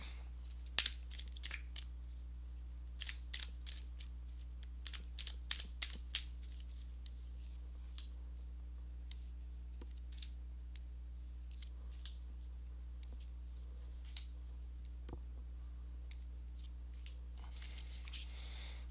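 Tarot cards are shuffled and drawn in a quiet room: quick, sharp flicks and snaps come in clusters early on, then thin out to occasional soft ticks under a low steady hum.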